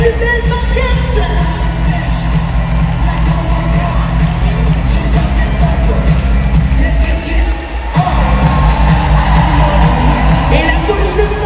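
A Montréal Victoire hockey crowd roars and yells in a loud arena, sustained cheering filling the space with a brief dip before surging again, a voice audible under the noise.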